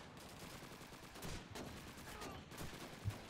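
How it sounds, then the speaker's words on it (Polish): Gunfire in the video game Call of Duty 2, Moscow level: scattered shots and bursts over a busy, noisy battle background, with a sharper blast near the end. "Kto do mnie strzela?"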